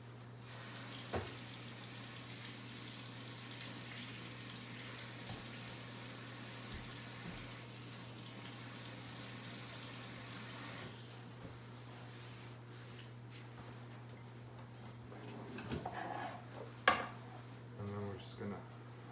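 Tap water runs into a kitchen sink as a cut jalapeno is rinsed, a steady faint stream that stops partway, followed by soft handling clatter and quiet talk.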